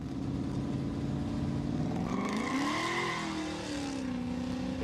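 A Holden Commodore ute doing a burnout at a street drag day, its engine droning and then rising in pitch as the tyres spin, with a hissing tyre squeal swelling midway, heard at a distance.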